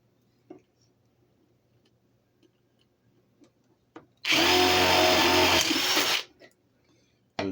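A power drill bores through a wooden piece for a porch swing planter in one loud, steady burst of about two seconds, set apart by quiet workshop taps and small knocks before and after.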